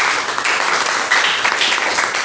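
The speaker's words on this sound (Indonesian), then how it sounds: "Berikan aplaus buat teman." A classroom of students applauds a classmate, a short burst of dense, even clapping from many hands, fairly loud and close.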